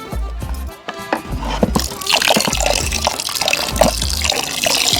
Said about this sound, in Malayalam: നന്നായിട്ട് മിക്സ് ചെയ്ത് നമുക്ക് ബക്കറ്റിലേക്ക് ഒഴിച്ചു കൊടുക്കാം